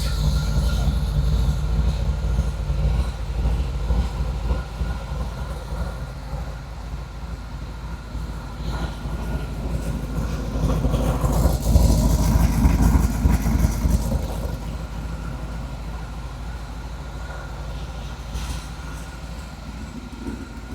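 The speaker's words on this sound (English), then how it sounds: "the ZZ6 EFI, it's warm right now. I'd love to share with how nice this thing sounds." A warm truck with a ZZ6 EFI engine idles nearby, giving a steady low rumble with a few swells and a brief rise near the middle, with no talk over it.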